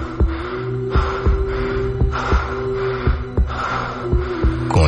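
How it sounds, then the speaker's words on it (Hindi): Steady, regular thumping like a fast heartbeat pulses under a droning tone, with breathy, gasping noise running throughout. "तो सिर्फ अश्मित के हांफने की और उसकी तेज धड़कनों की।"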